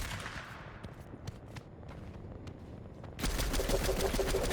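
Gunfire from a retextured MK gun in a 1v1 video game match, a sparse run of sharp shots that gives way to a dense, loud burst of rapid fire near the end.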